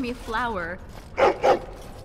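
Dog in Dragon Age Origins: Witch Hunt DLC gives two short, loud, close bursts like quick barks or huffs, following a stretch of talk.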